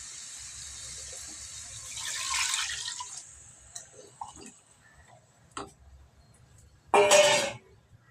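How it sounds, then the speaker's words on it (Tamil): Water poured into a pan of chicken and bottle gourd gravy, a hissing splash for about a second, then some faint clinks, and a second louder burst of pouring near the end. "தேவையான அளவுக்கு தண்ணி ஊற்றியாச்சு."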